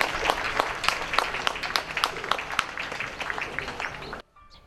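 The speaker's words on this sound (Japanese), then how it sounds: "皆様どうか大きな拍手をもう一度よろしくお願いいたします" A crowd applauds at a flower festival welcome ceremony in a dense, even patter of clapping. The applause holds steady for several seconds and then stops abruptly.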